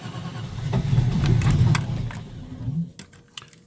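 A car engine cranks in a cold start at zero degrees while running on LPG, the starter churning steadily and loud before slowing, followed by a few faint clicks.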